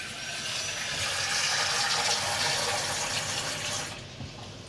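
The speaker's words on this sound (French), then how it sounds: "Je rajoute de l'eau, je les couvre intégralement." Water poured into a pan over browned veal paupiettes, a steady close rush of liquid that swells for a few seconds, then cuts off near the end.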